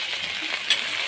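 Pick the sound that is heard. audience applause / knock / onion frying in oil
onion frying in oil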